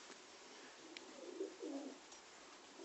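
Young trained Pakistani high-flyer pigeons coo softly in a loft, a couple of low rolling coos rising midway through a faint, steady background hiss, with a brief chirp early on.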